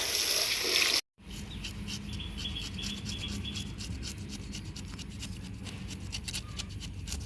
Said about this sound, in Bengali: সুন্দরভাবে মাছের আঁচলেগুলো পরিষ্কার করে নেওয়া হচ্ছে